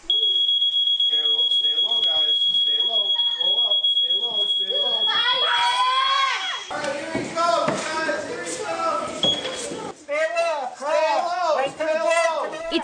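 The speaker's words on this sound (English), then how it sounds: "The alarm sounds." A smoke alarm shrieks with a steady high electronic tone in a fire safety simulation house, joined by excited children's voices and shouting as the alarm continues at first and then gives way to talk.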